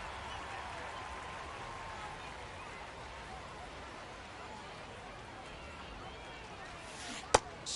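Crowd noise buzzes steadily in a baseball video game as a batter steps in, a continuous broad murmur of a stadium audience with a sharp crack near the end.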